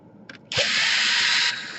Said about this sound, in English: And now you just want to unscrew all the screws here.